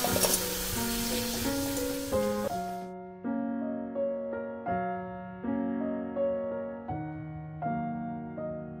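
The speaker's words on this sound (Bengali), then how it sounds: "একইভাবে সব পাঁপড়গুলোকেই ভেজে নেব।" A loud sizzle of papad frying in oil in a wok fills the first few seconds, then fades out as gentle instrumental music plays on alone.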